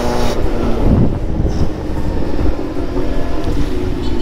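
Steady loud wind and road rumble from riding a motorcycle in early-afternoon traffic while wearing a Shoei X-15 helmet, a continuous broadband roar with no talk.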